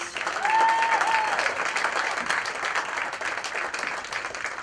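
Steady applause from a crowd at a Hope College softball senior-day ceremony, a continuous clapping wash that swells near the start and then holds fairly loud, with a few cheers mixed in.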